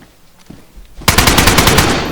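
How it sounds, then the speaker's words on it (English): In the DayZ video game, a loud, close burst of rapid automatic gunfire rattles out for about a second after a few faint thumps, fired through a wall. "He's shooting me through the wall. He's trying to shoot me through the wall."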